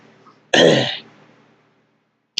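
One harsh throat-clearing cough, loud and close, fading off before a short second rasp begins at the end.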